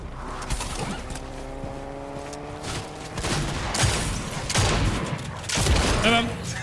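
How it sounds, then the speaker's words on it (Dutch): Gunfire bursts in the Fortnite Battle Royale video game, several loud rapid volleys in the second half over a dense game soundscape, with players talking over it. "Hij schiet."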